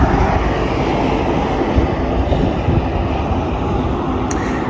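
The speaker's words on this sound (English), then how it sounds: "I think I hear a train coming." A Shinkansen high-speed train rushes past nearby in Kobe, Japan, with a loud, steady roar of wind and rail noise that fills the whole stretch.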